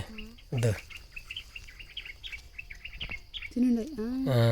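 Small birds chirp and tweet in quick, scattered bursts at moderate distance in a forest while feeding on fruit, with a person's voice breaking in briefly at the start and end.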